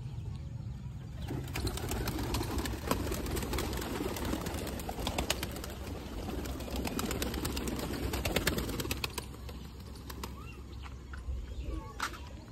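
Pet pigeons released from their coop, with bursts of wing flapping and clattering take-offs over soft cooing and background noise, moderately close.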